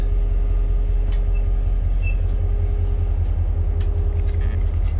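Iron ore train moving through the Mauritanian desert, a loud continuous low rumble and rattle of rail cars heard from on board, with faint metallic squeals, no talking.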